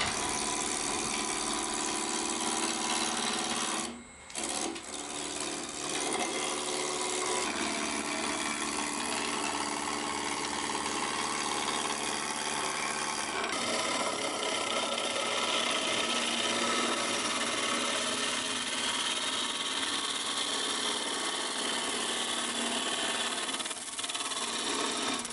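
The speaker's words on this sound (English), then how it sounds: "got some more hickory wood on the lathe now, and I'm just gonna turn that into a simple cup, first by turning this piece of wood down to round" A piece of hickory wood being turned down to round on a wood lathe to make a simple cup: a continuous motor hum with rough scraping from the tool cutting the spinning wood, a brief dip near the start.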